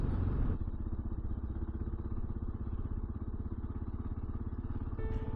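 Kawasaki KLR 650 motorcycle riding across a snowy bridge in February, a steady loud close engine drone with a fast chugging pulse throughout, no talking.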